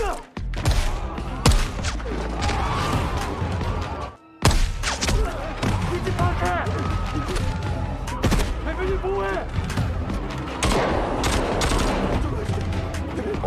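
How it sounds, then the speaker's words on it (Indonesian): A shootout between couriers and guards in the drama Black Knight brings repeated bursts of rapid gunfire, heavy thuds and booms that keep going almost without a break. Voices talk over the shots. "Episode 6 dimulai dengan aksi tembak-tembakan antara para kurir dan pengawal Ryusok"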